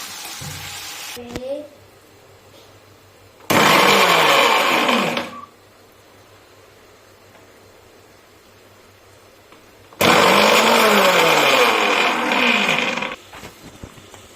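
A mixer grinder grinds onions into paste for a chicken curry in two loud, whirring bursts of about two and three seconds, separated by quiet, with brief kitchen clatter before the first run.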